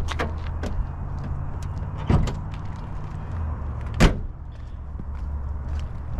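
The hood release of a Mercedes W123 is pulled, giving several sharp mechanical clicks and clunks, the loudest near the middle, over a low steady background hum with no talking.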